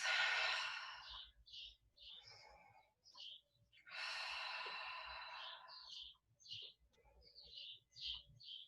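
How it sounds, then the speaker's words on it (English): Breath exhaled audibly during a yoga class, with two long breathy whooshes and a few short puffs between them. The breathing is faint and intimate, with no speech. "Take 3 verbal exhales"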